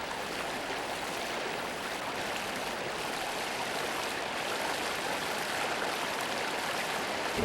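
Rushing water pours steadily down the low concrete fish steps beside a dam on the Nakdong River, a dense continuous roar at close range with no voices.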